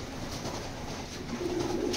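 A fancy domestic pigeon born in 2015 coos low and steadily nearby against a rushing background hiss, with no one speaking.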